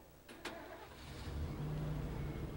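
A car engine in the zombie survival game State of Decay cranks with two quick clicks, then catches and settles into a low, steady idle that grows slightly louder.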